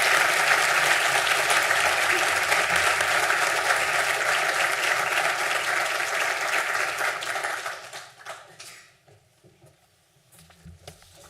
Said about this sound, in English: we'll give a round of applause to all of the graduates from the Department of Business